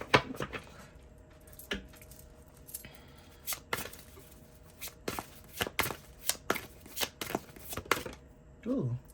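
Tarot cards being shuffled by hand, a series of soft papery riffles and taps at a steady irregular rhythm, quiet and close, with faint room noise.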